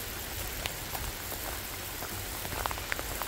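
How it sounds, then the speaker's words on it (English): Steady rain falls outdoors on the Althorp Estate near a lake, a dense close hiss with scattered individual drops pattering on nearby surfaces throughout. "Oh, I'm really enjoying the rain, to be honest."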